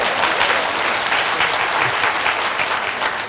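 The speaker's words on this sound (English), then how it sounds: "Go ahead and clap." A lecture audience breaks into steady, dense clapping at a talk on Universal Design for Learning, loud and continuous throughout with no break, a faint voice or two mixed into the crowd.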